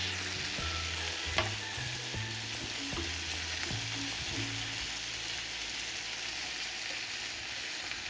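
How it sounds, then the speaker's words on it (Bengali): Food fries in an iron pan with a steady, hissing sizzle, moderately loud and close, and a few sharper crackles scattered through. "এটা একবার লোহিতে ফ্রাই করে নিব।"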